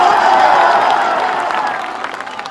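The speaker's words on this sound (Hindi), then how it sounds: "तो ताली बजा के आशीर्वाद देना जाओ।" Crowd clapping and cheering at an outdoor Bhojpuri political rally in Karakat, a dense, loud burst of applause that thins out toward the end.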